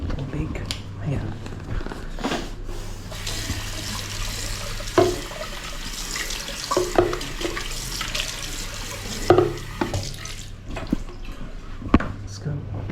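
Water runs from a tap in a steady, close wash, with splashes and clatter on and off while people talk.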